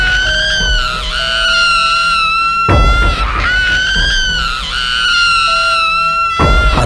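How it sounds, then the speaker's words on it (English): Witches shrieking as if burning, loud sustained high-pitched screams in layered, wavering tones, broken by sudden heavy bursts, with no talking. "the witches started shouting as if they were on fire"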